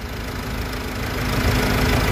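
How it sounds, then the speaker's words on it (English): Nissan/Vauxhall/Opel engine with a crank-no-start fault and flashing engine light, struggling to rev up: a steady, close mechanical hum with a low rumble that holds evenly throughout, no voices. "There we go, it's struggling to rev up."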